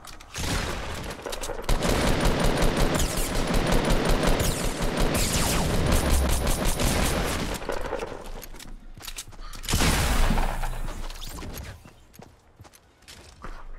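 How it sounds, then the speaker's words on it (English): Sustained automatic fire from an AK assault rifle in a video game, loud continuous rattling bursts with mechanical clicks of reloading toward the end and little talk. "I switched to a different AK"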